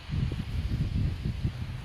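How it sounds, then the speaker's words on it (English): Steady low wind rumbles and buffets a microphone outdoors, a continuous blustery roar with no voices. "wow, it's windy out here"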